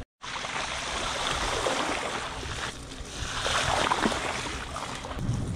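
A rider crosses a small water passage in a grassy, muddy field, with a steady broadband wash of splashing and churning water running nearly the whole time, close and fairly loud.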